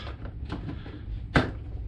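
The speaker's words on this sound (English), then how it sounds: "You're hearing the clicking noise when you locked." A few soft plastic clicks and knocks, then one sharper snap as a Lexus CT200h rear door panel clip seats into place, close by.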